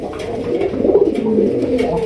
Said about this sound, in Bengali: এখানে রয়েছে 5 নাম্বার জোড়া কালারিং রাজগোলা কবুতর, ব্ল্যাক কালার মধ্যে বিশাল সাইজ।